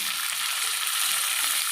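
Tomatoes added to fried onions sizzle loudly and steadily in hot oil in a pan while cooking an egg curry, a constant crackling hiss with no voices.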